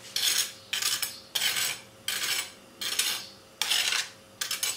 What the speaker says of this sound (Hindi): आप देख सकती हो कि कितना क्रिस्पी है, आवाज से अंदाजा हो जाएगा